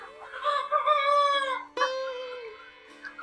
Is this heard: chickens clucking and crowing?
yes